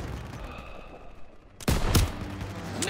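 Gunshots from a World War II street battle in Call of Duty WWII, a church tower setting: quiet rumble at first, then a sudden loud burst of sharp, overlapping shots near the listener, continuing as a dense fusillade.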